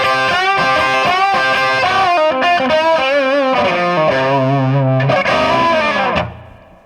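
Electric guitar played straight into a 3 Monkeys amplifier with no pedals, gain set around one to two o'clock, giving a loud, continuous overdriven tone with bending notes and chords that fade at the end.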